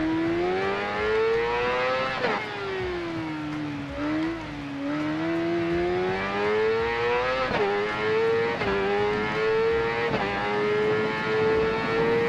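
Motorcycle engine in the Ride 4 racing game, a loud continuous whine rising and falling as it revs through gear changes, close and alone, with no talking.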